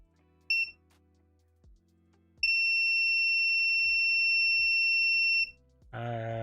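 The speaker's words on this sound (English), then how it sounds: "Turn that beeper off." An electronic multimeter beeper in diode mode sounds during an Xbox One S repair: a short high beep, then a long sustained tone lasting about three seconds, over faint low clicks and a brief burst of noise at the end.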